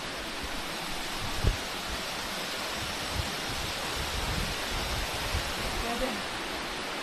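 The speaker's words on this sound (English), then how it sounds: "You're basically crossing a bridge over this waterfall." Rushing waterfall heard from a bridge crossing above it on a gorge hiking trail, a steady broad roar of falling water with a few faint knocks and footsteps on top.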